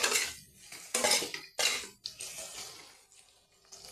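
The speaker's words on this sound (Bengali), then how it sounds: "একটু নেড়ে চেড়ে" A spoon scrapes and clanks against a pan as cabbage and tomato curry is stirred, three or four loud metallic strokes close by, then quieter shuffling, with no talking.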